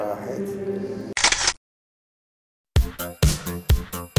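A camera snaps a selfie on a French TV show set: a short shutter burst, a silent gap, then a quick run of four or five sharp clicks close by, after a stretch of background music.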